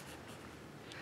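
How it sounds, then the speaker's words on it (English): Pencil scratching across a box surface during a craft project, a quiet brief rasp of graphite lasting about a second. "I'm gonna just mark it with a pencil"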